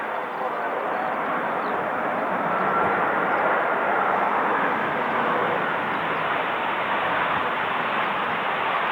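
A plane landing in a storm with gusting strong wind and windshear at Bristol Airport, a steady loud roar of jet engine and rushing wind holding evenly throughout without distinct breaks.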